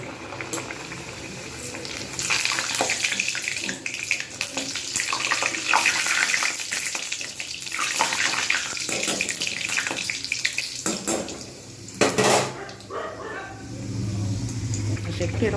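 Pea-filled kochuri deep-frying in hot oil, a steady loud bubbling hiss running throughout with brief louder crackles, with some voice and kitchen handling sounds over it.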